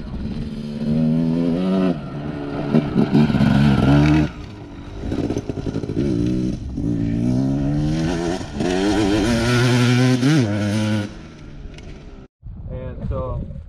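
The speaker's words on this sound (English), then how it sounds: "Watch how hard he hits the front brake." A dirt bike braking hard on the front brake, its engine revving and dropping in uneven surges with clattering bursts, loud and close, then cutting out briefly near the end before picking up again.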